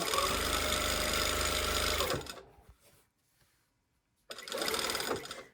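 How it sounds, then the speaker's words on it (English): A sewing machine stitches around the top of a waistband in two loud, close runs, a steady buzzing whir of about two seconds, then near silence, then a shorter burst. "5/8 of an inch, sewing all around the top of the waistband"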